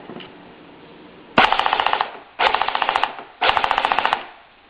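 An airsoft Double Eagle XM8 gearbox cycles outside its gun in three loud, rapid mechanical bursts, each about a second of fast ratcheting clicks, separated by a lower whirring hum.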